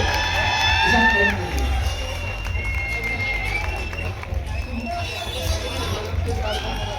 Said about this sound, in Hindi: जोरदार तालियां इस मोमेंट के लिए